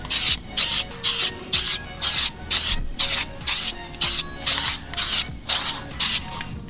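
A spray can or spray gun hisses in short, evenly spaced bursts, about a dozen quick blasts in a steady rhythm, while paint goes onto a BMW E36 car at home; close, loud, no talking.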